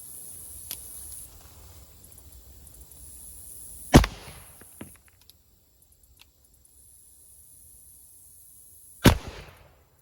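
Two sharp, loud reports from a black powder revolver fired outdoors, about five seconds apart, each followed by a short echoing tail, with a high whine and quiet stretches between shots.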